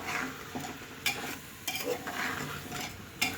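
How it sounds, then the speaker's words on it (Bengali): Rice, mung and other lentils fry with vegetables in a pan, giving a steady sizzle broken by repeated scraping strokes of a spoon stirring against the pan. "এখন আমি একটু ভেজে নেব"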